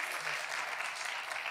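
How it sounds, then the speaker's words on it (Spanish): A church congregation claps together in a dense, steady burst of applause, close and even throughout this short moment. "vamos a aplaudir al Señor"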